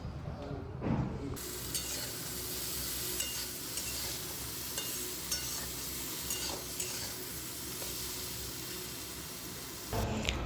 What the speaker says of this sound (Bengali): এদিকে কালো জিরে ফোড়ন দিয়ে হচ্ছে টমেটো দিয়ে ডাল, মুসুরির ডাল